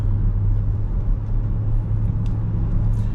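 A 2008 Mercedes-Benz ML63 AMG's engine produces a loud, steady, deep rumble from close by, holding a constant low drone without clear revving throughout.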